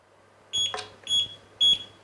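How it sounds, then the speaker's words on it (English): A RadioMaster T8 Lite RC transmitter in bind mode gives three short, clear electronic beeps at even intervals, quiet and close against a silent background. "now you can hear those two beeps. That means it's trying to bind in D8 mode"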